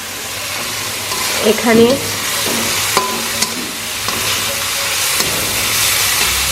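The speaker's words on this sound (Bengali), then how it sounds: "তো এগুলোকে এখন স্ম্যাশার দিয়ে স্ম্যাশ করে নেব।" Pressure-cooked vegetables for pav bhaji are worked with a hand masher in the pot, giving close, loud squelching and thumping strokes over a hissing background, with someone speaking briefly.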